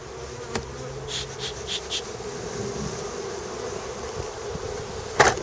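Honey bees buzz around a hive in an apiary, with a steady close drone and several brief louder passes of single bees flying near, ending in a sharp nearby buzz or knock.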